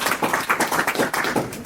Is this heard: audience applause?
yes